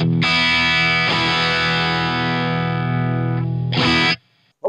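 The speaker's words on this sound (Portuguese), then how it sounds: "como você pode ouvir, ele não é um noise gate rápido" An electric guitar plays heavily distorted through a Cuvave Cube Baby mini amp. A long sustained chord rings, a second chord follows, and then the signal trails off as the slow noise gate closes.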